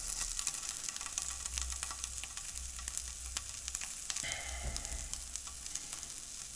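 Winter vegetables frying in oil in a pan, a faint, steady crackling sizzle with scattered pops and a brief soft scrape partway through.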